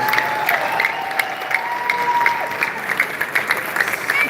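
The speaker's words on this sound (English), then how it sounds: "Give her a round of applause real quick." Audience applause at a live training and launch event in Las Vegas, steady clapping throughout with a continuous background tone, no talking heard.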